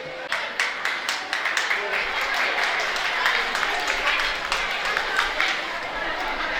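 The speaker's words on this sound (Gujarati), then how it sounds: "તાળીઓ બંધ થઈ ગઈ છો." Audience clapping at a school annual function in Amreli, a moderately loud, steady spread of many hands with some individual claps standing out, mixed with crowd chatter throughout.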